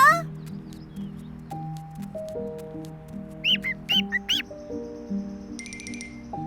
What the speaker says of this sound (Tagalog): Anong klaseng ibon ba yan?